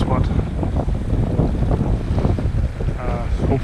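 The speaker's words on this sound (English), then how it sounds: "It's definitely not as windy as it was when I got here." Strong wind blows over Sessiagh Lake in Portnablagh, Co. Donegal, as a constant loud rushing and buffeting against the microphone, with a voice faintly beneath it.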